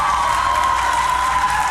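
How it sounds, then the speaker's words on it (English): An Oxford debate audience boos a speaker, a sustained, dense crowd roar with a droning vocal tone that holds steady and loud for the whole stretch. "This is the second time that this speaker has been booed"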